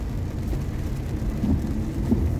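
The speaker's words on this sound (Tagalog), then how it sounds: "magkukwentuhan tayo habang ako'y bumabiyahe sa ulan." Steady rain in Kuwait hisses and patters continuously, with a low rumble underneath, as if heard from inside a moving vehicle; no voices.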